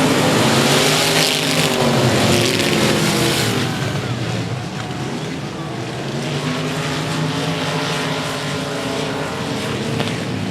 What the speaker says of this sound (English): Willis and Gates going to be wheel-to-wheel down into turns 3 and 4.